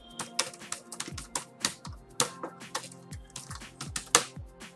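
Someone types a name on a computer keyboard, with quick, uneven bursts of close, crisp key clicks and short pauses between them.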